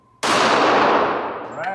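A single loud shot from a Glock 43 pistol fired at a target cracks sharply, then rings and decays over about a second and a half.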